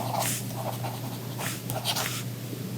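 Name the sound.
writing with pen on reMarkable 2 tablet screen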